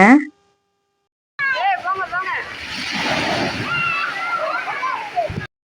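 Water splashing and falling at an amusement park water ride in Coimbatore, a steady rushing wash of spray after a short silent gap, with high squeals and shrieks from people riding layered over it.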